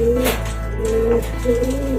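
Cooing calls from pet domestic birds, such as pigeons or doves, outside a house in a low, steady murmur of repeated coos, with several soft calls overlapping through the moment.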